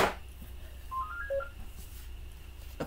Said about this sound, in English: Apparently, that is the phone again.